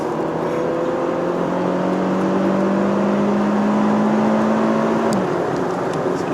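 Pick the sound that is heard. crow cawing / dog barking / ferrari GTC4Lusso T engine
ferrari GTC4Lusso T engine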